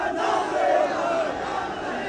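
Supporters gathered for the funeral procession of Raja Virbhadra Singh in Rampur chant slogans together, a dense, steady crowd roar that stays loud and continuous throughout.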